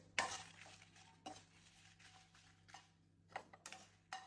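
Dried red chillies are fried in a pan for a Batticaloa-style crab curry, heard as quiet, faint sizzling with several sharp spoon scrapes and clinks against the pan.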